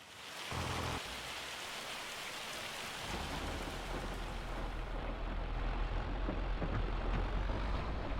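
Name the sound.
hail storm in video game Farming Simulator 25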